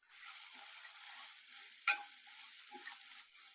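Ginger garlic paste and finely chopped mint frying in a pan give a steady close hiss of sizzling, with one sharp clink of a spoon stirring and a softer scrape later, no voices.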